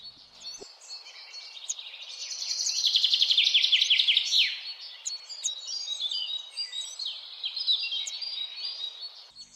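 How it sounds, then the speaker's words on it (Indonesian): Several birds chirp and trill back and forth in quick high bursts, fairly close, in a forest by day, with a soft background hiss and no voices. "Suara kicau burung bersahutan"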